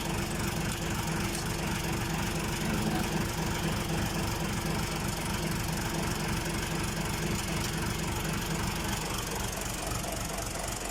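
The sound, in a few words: Isuzu 6HK1 diesel engine running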